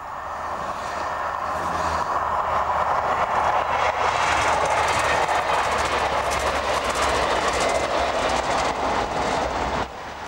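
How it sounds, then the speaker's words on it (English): A steady, loud rumble of a train running along the rails across the Gower Peninsula, South Wales, toward Swansea, with a faint rhythmic clatter of wheels throughout. "the train reverses to take us across the Gower Peninsula to Swansea"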